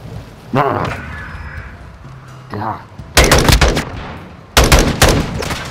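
Gunfire in Call of Duty: Modern Warfare II, with loud bursts of shots arriving in two dense clusters after scattered quieter hits and a brief shout near the start.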